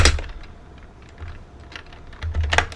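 Someone types a command at a computer keyboard, a quick run of close, crisp key clicks that bunches into a denser, louder burst near the end, with no speech.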